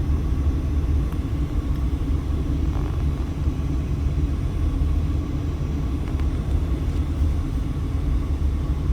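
Dense road traffic on a busy Las Vegas street on a weekday afternoon, a loud, steady rumble of many vehicles close by that fills the whole stretch without letting up.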